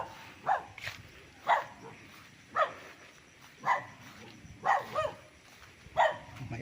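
A dog on a rural farm lot in Pagsanjan, Laguna barks six times at a steady, evenly spaced rhythm, moderately distant, over a quiet outdoor background.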